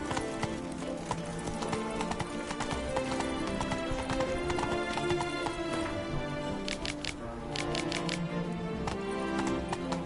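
Horse hooves clip-clopping at a steady galloping rhythm in The Witcher 3: Blood and Wine, with occasional whinnies and game music underneath, loud and continuous throughout.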